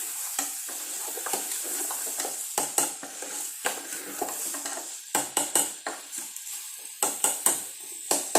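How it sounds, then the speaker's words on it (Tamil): Chopped tomatoes for rasam stirred in a pan bring repeated scraping clatters of a spoon against metal over a soft sizzle, coming in quick irregular strokes that grow busier toward the end. "வெட்டி வச்ச தக்காளியை உள்ளே போட்டுட்டு லைட்டாக ஒரு கிண்டுங்க"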